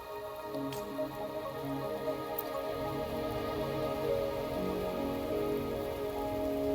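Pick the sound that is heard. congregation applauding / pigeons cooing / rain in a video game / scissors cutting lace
rain in a video game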